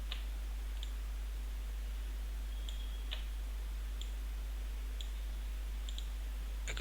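Mouse clicks during After Effects work: several faint, sharp clicks spaced a second or so apart over a steady low hum, with no talking.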